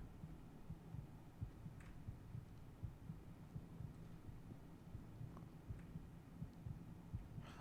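A low, steady heartbeat pulses in a video game set in Windhelm, a faint, rhythmic thumping repeating about twice a second over a quiet hum, with no talking.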